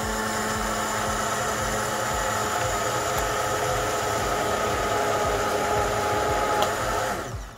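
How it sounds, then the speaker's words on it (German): A blender purées a potato and wild garlic soup with some spinach. It runs as a steady, loud, unbroken whir for about seven seconds and then winds down at the end. "wir können die ganze Chose jetzt pürieren."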